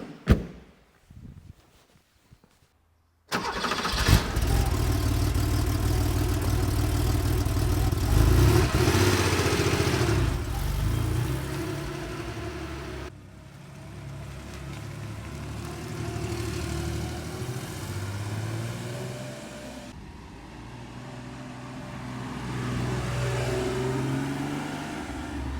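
A classic Porsche engine on a road test starts after a quiet moment, then runs steadily and loudly, its tone rising and falling as it accelerates and shifts through gears, with no talk.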